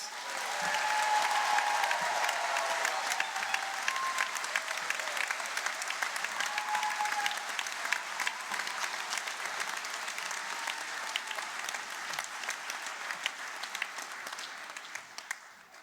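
Sustained applause from a large graduation ceremony audience at the University of South Wales, steady dense clapping heard from a distance that holds for many seconds before tapering off, with faint voices in the crowd.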